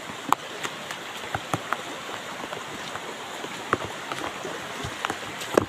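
Rain falls outdoors as a steady, soft hiss, with scattered louder drops tapping throughout.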